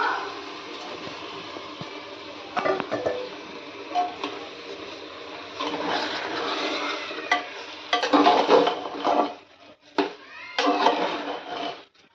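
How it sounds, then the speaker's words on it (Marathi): Soaked rice tipped into a pan of sautéed soybeans, stirred with scraping, rustling and light sizzling in irregular bursts, close and moderately loud, with faint talk in the background. "सोयाबीन चांगलं परतले, आता तांदूळ ह्याच्यात घालून घेते मी."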